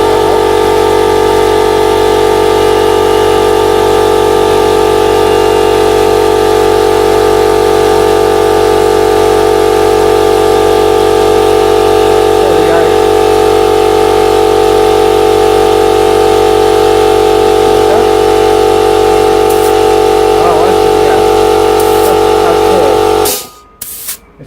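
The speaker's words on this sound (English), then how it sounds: "Now the compressor might well pump up in a minute." A small air compressor runs continuously with a loud, steady motor drone and pumping hum, close by, then cuts off abruptly near the end.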